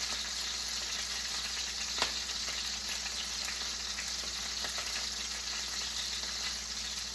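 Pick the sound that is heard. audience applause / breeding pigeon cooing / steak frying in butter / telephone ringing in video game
steak frying in butter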